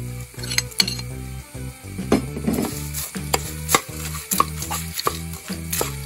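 A spoon stirs spicy pappadam thoran in a pan, with six fried pappadams and salt added. Regular close scraping and clinking strokes repeat over a light sizzle.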